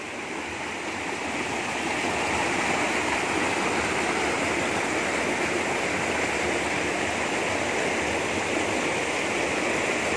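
A river in Kampung Lotong, Kudat, flows moderately over rocks. It gives a continuous, fairly loud rushing babble that holds steady throughout, with no talking.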